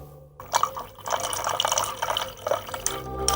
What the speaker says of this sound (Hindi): अरे भाई रजिया, जरा मुझे एक गिलास पानी दे दीजिए।